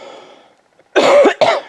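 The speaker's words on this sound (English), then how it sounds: "COVID cough." Two sharp, close coughs in quick succession, the second shorter, following a moment of near silence.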